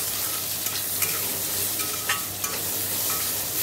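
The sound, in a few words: mustard seeds sizzling in hot oil for tempering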